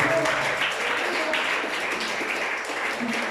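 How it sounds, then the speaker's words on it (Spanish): A church congregation applauds during a worship service, a short, dense wash of clapping with some voices mixed in. "Un aplauso al Señor."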